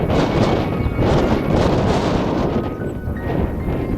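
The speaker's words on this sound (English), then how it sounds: "Wow, it's one breezy day today." Loud, gusty wind on the open prairie at Orkney, Saskatchewan buffets the microphone throughout, a constant roaring rumble with swelling gusts and no other clear sounds.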